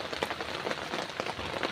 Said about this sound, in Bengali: দেখো কত সুন্দর বৃষ্টি হচ্ছে